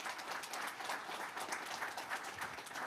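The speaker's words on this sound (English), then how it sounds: "Can you get a round of applause for the police department?" A room full of people at a city council meeting claps steadily for the police department, a dense, even round of applause throughout.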